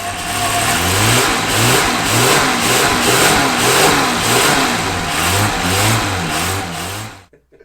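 An old car engine runs steadily and loudly, its pulsing rhythm surging slightly as if revved, nearby and alone with no talk, before cutting off abruptly at the end.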